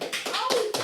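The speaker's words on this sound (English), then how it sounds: "Gotta clap for myself." A person claps their own hands a few times in quick, close, sharp bursts, with a voice talking alongside.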